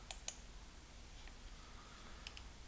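A few sharp computer mouse clicks, faint and close: a quick pair near the start and another pair near the end, with quiet room hiss between them.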